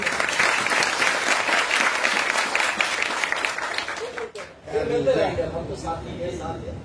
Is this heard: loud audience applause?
yes